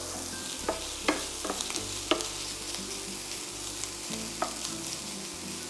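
Bacon and onion sizzle steadily in a pan, with a few sharp clicks and scrapes from a utensil stirring them together, close and fairly quiet.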